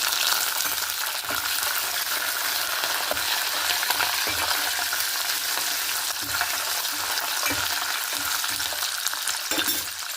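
Dried red chillies, chana dal, mustard seeds and curry leaves frying in hot oil as a tempering: a steady, loud, bright sizzle throughout with faint stirring scrapes.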